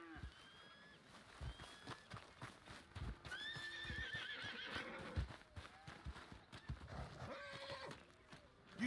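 A horse in the video game Red Dead Redemption 2 gives several whinnies over soft, scattered hoof clops. The sounds are fairly close but quiet, with a few rising neighs spaced through the stretch.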